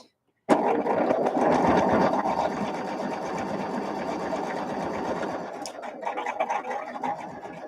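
A sewing machine stitching the last seam of a churn dash quilt block runs steadily and loudly for about seven seconds after a brief silent start, close by and alone.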